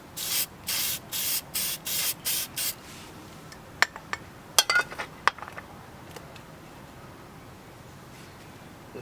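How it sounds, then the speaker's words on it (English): Seven short, even hissing bursts of clear coat spray onto a Lexus IS300 fog light in a quick steady rhythm, followed by a few faint clicks and taps in a quiet room. "Yeah, so I'm just gonna spray some clear coat on there,"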